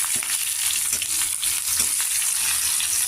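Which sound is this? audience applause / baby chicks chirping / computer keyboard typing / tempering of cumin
tempering of cumin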